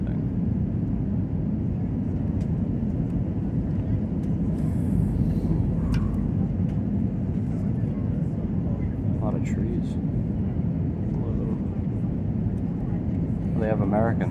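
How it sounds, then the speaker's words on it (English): Heard from inside the cabin, an airliner descends to land at Punta Cana International Airport with a steady, loud engine and air roar. Faint voices and small clicks sit under the constant drone. "And hopefully we get a nice and soft landing."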